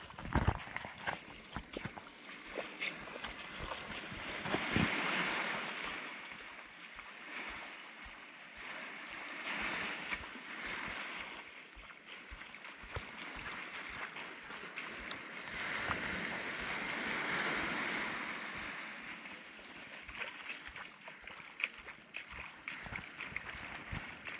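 Waves wash onto the sand at Kailua Beach in slow, repeated surges, with steady broadband surf swelling and fading over clattering, uneven footsteps.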